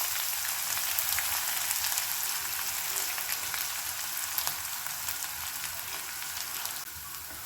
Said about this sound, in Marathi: आपला लसूण लाल होईपर्यंत आपल्याला तो भाजायचा आहे.